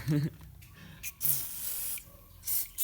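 Spray cleaner is sprayed into a motorcycle helmet in two short, sharp hissing bursts, with someone talking between and around them.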